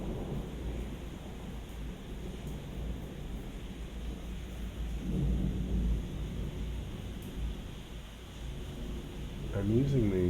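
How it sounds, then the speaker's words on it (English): Thunder from a midnight storm in Taxco, Mexico, rolls in low and heavy, swelling in the middle and again near the end, with rain and wind hissing steadily beneath the rumble. "It turned out it was actually thunder."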